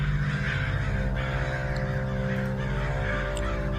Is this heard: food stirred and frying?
no